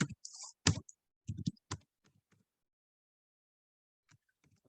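Computer keyboard typing, a few quick bursts of clicky keystrokes close up, then near silence with faint scattered taps.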